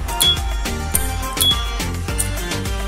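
Bright metallic pings ring out twice as the lid of a white, square-patterned S.T. Dupont D139T lighter snaps open, each a sharp click with a lingering high chime, set against continuous background music.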